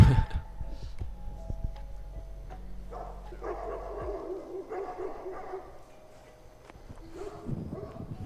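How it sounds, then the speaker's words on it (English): A Great Pyrenees barks in the distance at an outdoor dog event, several separate deep woofs spaced apart over faint background noise. "We can hear the Great Pyrenees in the background."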